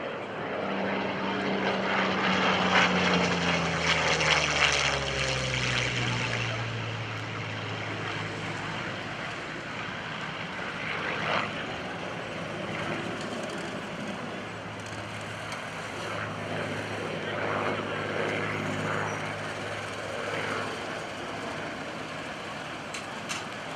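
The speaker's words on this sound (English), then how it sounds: "let's take a look at this frontline Russian fighter from World War II" A WWII Russian propeller fighter plane with an Allison engine roars past at an airshow, its engine drone loud at first with a falling pitch, then settling into a steady distant rumble.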